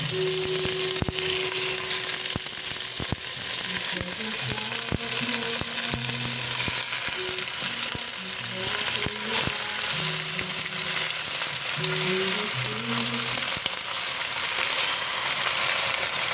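Chicken pieces for sinampalukang manok frying in a hot pan, a steady dense sizzle with crackles and pops running throughout, close and fairly loud, with no talking.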